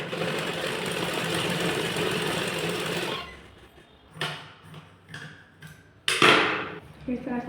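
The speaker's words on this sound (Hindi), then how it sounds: "इसको इस तरह से इधर भी सिलेंगे और उधर से सिलाई लगाएंगे" A sewing machine stitches a blouse slip, running steadily and loudly for about three seconds, then stopping, followed by scattered handling sounds and a brief fabric rustle.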